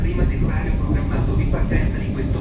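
Steady low rumble and rattling hum inside a moving train carriage bound for Venice, continuous and fairly loud, with faint voices underneath.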